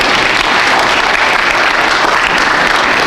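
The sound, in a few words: audience applause for soloist Spencer Furby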